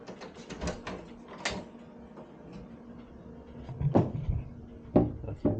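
A closet door in a church education building opens with a soft creak and rattle, followed by a couple of dull knocks and clunks, quiet and close in a hushed room.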